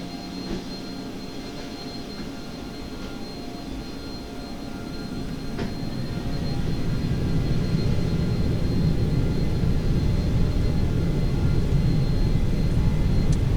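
Airliner jet engines in X-Plane 11 spool up steadily for takeoff, a broad roaring whine that builds in loudness and holds strong, with no voices over it.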